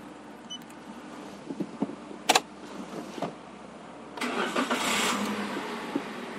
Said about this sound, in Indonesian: Kita hidupkan mobil.